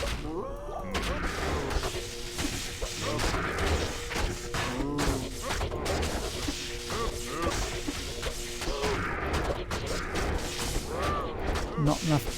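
Cows mooing repeatedly in Diablo II, several low moos mixed with clashing, whacking combat hits and impacts across the whole stretch, with speech in the background.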